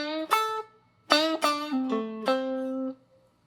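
Guitar playing a short blues lick, a quick run of picked and bent notes in a loose rhythm that ends on a sustained note, clear and alone.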